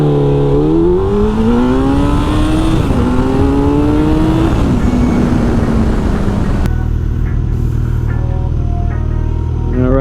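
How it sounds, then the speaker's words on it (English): A Hayabusa motorcycle accelerates hard on a night ride, its engine climbing through gears in a loud rising whine with brief dips at shifts, then settling to a steady rumbling cruise with wind noise. "we get to do a little acceleration here. Let's see what this Hayabusa got."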